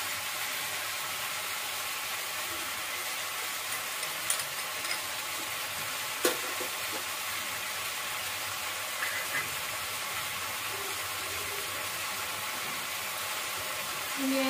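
Ginger garlic paste fries in a pan for chicken korma, making an even, quiet sizzling hiss with occasional light clicks and taps, close by and without talking.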